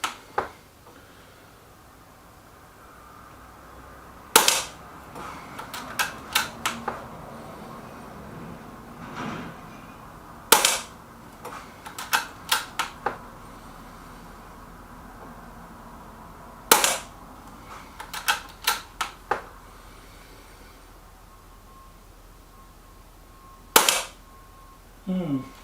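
A Weihrauch HW110 air rifle fires pellets at a target, with sharp, isolated cracks every few seconds and small clicks and handling noises between them over a quiet background.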